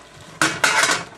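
Chicken and vegetables for a stir-fry are tossed in a pan, giving two loud scraping, clattering bursts of food against metal over a sizzle. Nobody speaks.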